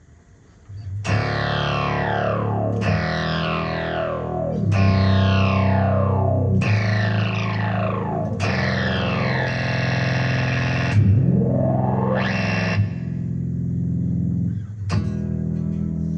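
Electronic synthesizer tones from an Electro-Harmonix SYNTH9 Synthesizer Machine pedal with sweeping, falling filter effects, a series of sustained distorted notes each decaying in a swoosh, one note gliding upward.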